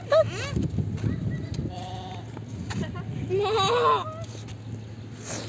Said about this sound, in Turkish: Bunlar da koyun.